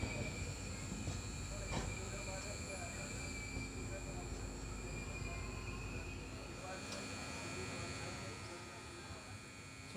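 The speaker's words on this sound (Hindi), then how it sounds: "2:20 पर डिपार्ट कर रहे हैं तुलजापुर से" Maharashtra Express LHB train pulling out of Tuljapur station, with a continuous low rumble of the rolling coaches and faint high squeals of steel wheels, a steady sound that fades slightly near the end.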